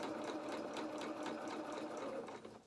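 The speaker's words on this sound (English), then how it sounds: "you can put your needle down into your work, lift up your presser foot and then change direction" A sewing machine stitches a seam in fabric while sewing a fox-head doll around the neck edge. It runs with a close, steady rapid whir of needle strokes that slows slightly at the end.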